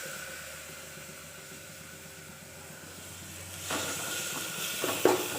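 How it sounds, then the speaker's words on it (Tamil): Tomatoes dropped into a hot pan for green gram curry, a soft steady sizzle that swells into a brighter hiss with a few clatters toward the end. "அடுத்தது இதில் வச்சுருக்கோம் இல்லையா தக்காளி, இதை எடுத்து போட்டுக்கோங்க."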